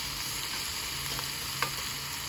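Red potatoes sizzle in a very hot skillet over high heat on a grill, a steady loud crackling hiss with a few brief pops and no talk.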